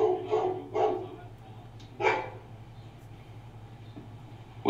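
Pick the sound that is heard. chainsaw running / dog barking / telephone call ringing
dog barking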